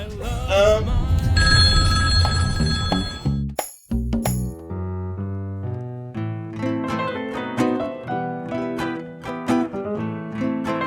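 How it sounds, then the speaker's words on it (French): A telephone rings at a season presentation at the Quai des Arts in Pornichet, loud, bright, repeated ringing with music already playing, then a brief break before a melodic, bell-like tune continues. "le téléphone va sonner dans 3, 2, 1"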